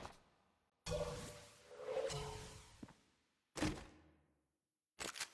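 A treasure chest opens in The Binding of Isaac, a sharp whooshing thunk with a creak, then a second brief burst a few seconds later and a short clatter at the end.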